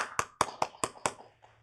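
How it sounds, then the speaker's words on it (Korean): Six sharp, evenly spaced hand claps, close and distinct, with the last one fading out softer, during a church worship service. "하나님께 영광의 박수를 올려드리도록 하겠습니다."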